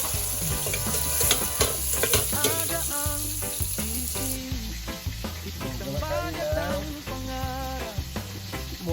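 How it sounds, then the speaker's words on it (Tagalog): Garlic and onion sauté in a pan for a molo scallop soup, with a continuous close sizzle and occasional stirring under prominent background music with melodic tones throughout. "Nagisa ng bawang"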